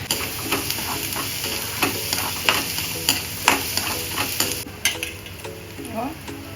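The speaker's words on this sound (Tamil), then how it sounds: "அதில் போட்டு நல்லா வதக்குங்க" Garlic sautés in hot oil for sura puttu as a spatula stirs it, with a loud, steady frying hiss and regular close scraping strokes against the pan.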